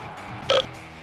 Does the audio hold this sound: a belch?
yes